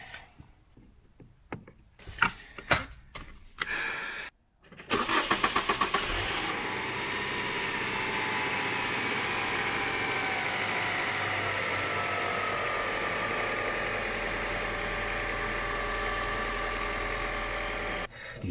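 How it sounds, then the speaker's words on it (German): A Hyundai car engine in a repair shop, heard after some clattering handling noises: it cranks and fires, then settles into a loud, high, steady idle that stays raised throughout. "Dieses Hochdrehen ist halt immer noch da."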